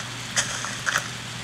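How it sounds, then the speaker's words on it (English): A MacBook Pro computer fan runs as a steady, faint, broadband whir with a low hum underneath and a few soft clicks over it. "if you hear a fan in the background,"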